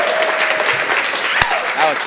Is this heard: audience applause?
yes